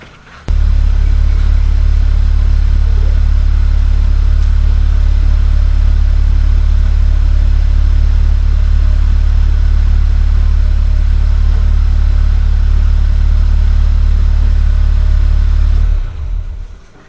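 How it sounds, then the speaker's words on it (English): A 2019 Honda Civic Type R engine starts and then idles loudly and steadily up close, a constant low rumble lasting about fifteen seconds before cutting off. "Let's go ahead and start the car."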